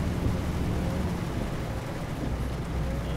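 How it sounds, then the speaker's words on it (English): Steady rain and rolling thunder in the Euro Truck Simulator 2 driving game, a continuous dense hiss of rainfall with low rumble beneath, even and unbroken throughout. "this rain gets on your nerves after a while"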